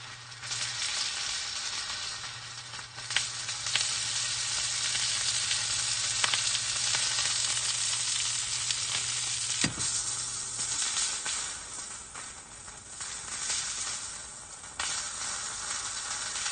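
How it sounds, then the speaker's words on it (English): Carnitas pork sears in a hot pan with a steady, loud sizzle and hiss that runs throughout, with occasional pops and brief stirring scrapes, close up and without talking. "Let's go ahead and try and sear the sides of these"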